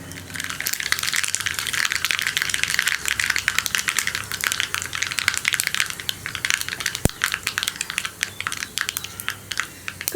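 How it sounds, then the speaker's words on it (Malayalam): Mustard seeds pop in hot coconut oil with a dense, continuous crackle of sharp little bursts that stays loud and busy for about ten seconds, with no talking. "കടുകൊന്ന് പൊട്ടി വരട്ടെ."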